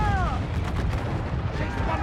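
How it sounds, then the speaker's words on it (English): Ship swivel guns fire during a naval fight in Assassin's Creed 4: Black Flag, with booming, rumbling blasts over sea and battle noise that stay loud and continuous throughout. "Alright, fire the swivels."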